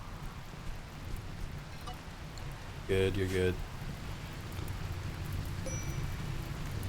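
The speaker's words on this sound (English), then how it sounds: "It's raining." Steady rainfall hisses throughout a session of the video game RimWorld, continuous and moderately loud, with someone briefly speaking over it partway through.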